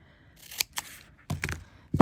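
Scissors snipping through white craft tape during metal tape and foil art, a few quick separate cuts with short gaps, close and clear, with no talking.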